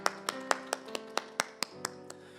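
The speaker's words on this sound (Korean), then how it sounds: "우리 박수로 축하하겠습니다" A church congregation breaks into applause, about ten sharp, fairly even claps in a quick rhythm that close up and fade out after two seconds.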